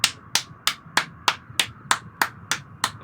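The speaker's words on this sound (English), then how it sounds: "This is the sound of me smacking my ass." A hand smacks bare buttocks in a quick, even rhythm, about ten sharp slaps in three seconds, close and loud with nothing else heard.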